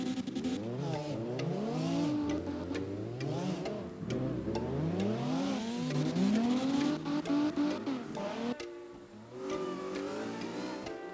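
A car engine revs and wails through drifts in CarX Drift Racing Online, pitch rising and falling repeatedly as the throttle is worked, with tire noise and brief shift breaks, loud and continuous, no talking.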